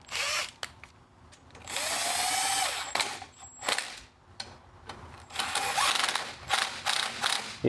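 Bolt being driven back onto the carburetor of a Duromax XP11000iH generator, heard as several short bursts of a power drill or impact driver whirring, with ratcheting clicks and metallic handling between them, close and fairly loud.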